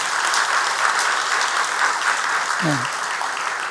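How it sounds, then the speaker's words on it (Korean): Church congregation at a Sunday service clapping for a newly married couple, a dense continuous round of applause filling the room, steady throughout with a brief low voice near the end. "행복하게 살라고 박수 한번 보내겠습니다"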